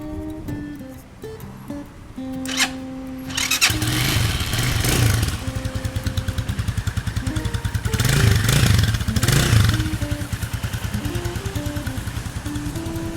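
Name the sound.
Stallion SM250 motorcycle engine running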